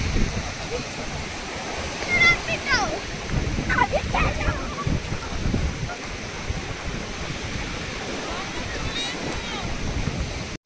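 Waves wash and splash steadily on the shore at Gangasagar under a blustery wind, with faint voices in the background.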